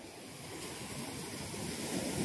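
Sea waves at Bucana wash in a continuous low surge, swelling slightly louder toward the end, with wind rushing over the microphone.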